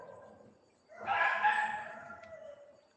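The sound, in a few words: rooster crowing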